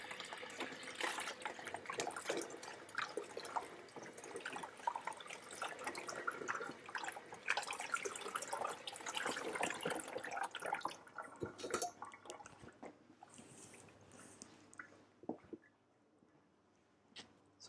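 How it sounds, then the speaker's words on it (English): Cold water runs from a tap over freshly blanched vegetables in a kitchen, a steady splashing flow that tapers into lighter trickles and drips toward the end. "Let's give it a bit of cold water around that."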